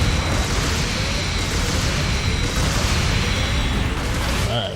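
A mobile suit is destroyed in Gundam Battle Operation 2, a loud, dense, rumbling explosion that roars continuously at full level and then tails off.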